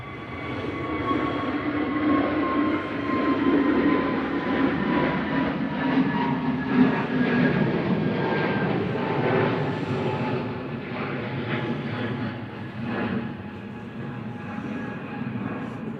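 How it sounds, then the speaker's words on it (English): EasyJet Airbus A320 taking off from Manchester Airport, a broad continuous jet engine roar with steady whining tones, heard from a distance for the whole stretch with little change in loudness. "This is GUZHA departing now on A320 Nigo."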